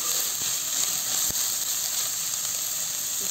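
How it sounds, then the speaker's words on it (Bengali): Onions fry in hot oil for a South Indian sambar vada dish, giving a close, steady sizzle with a couple of faint pops. "ভেজে নেবো লাল লাল করে"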